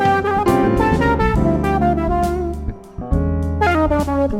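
An electronic wind instrument plays a bright, buzzy synth-like melody with rich harmonics over a band groove, loud and continuous with a brief dip near the middle.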